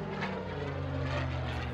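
A P-51 Mustang propeller airplane flying past at an air show heritage flight, a steady loud droning engine roar with no talk over it.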